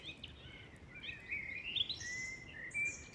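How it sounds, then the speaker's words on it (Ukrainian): Birds sing faintly in the distance, thin high chirps and trills over a soft background hiss of open woodland. "Пташки співають."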